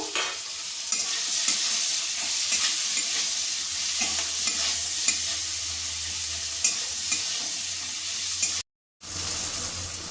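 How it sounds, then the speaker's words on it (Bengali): Capsicum, tomato and green chili fry in a pan for chili paneer, with a steady sizzle and repeated spatula scrapes and stirs close by. A brief silent gap comes near the end. "ক্যাপসিকাম, টমেটো আর কাঁচা লঙ্কাটা ভালো করে ভাজা হয়ে গেছে"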